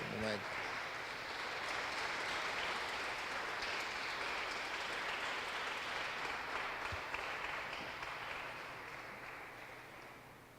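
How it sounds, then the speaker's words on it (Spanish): Church congregation applauding during a sermon, a dense sustained wash of clapping that fills the space for about ten seconds before gradually fading. "Denle un aplauso al Señor en este momento."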